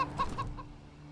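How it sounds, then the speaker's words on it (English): A plump cyborg chicken in the video game Wasteland 3 gives a few short, soft clucks in quick succession, faint and fairly close over a low steady game hum. "Cyborg chicken."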